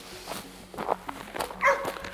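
A Hälleforsare hunting dog barks during a wild boar hunt with baying dogs, giving a few short, sharp barks and yips at close range over rustling footsteps.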